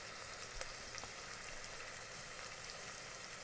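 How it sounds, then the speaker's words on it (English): Salted onion sautés in an Instant Pot set to saute mode, making a faint, steady hiss with a few tiny pops and no talking. "We can sprinkle some salt while sauteing onion."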